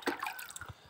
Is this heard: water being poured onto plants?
yes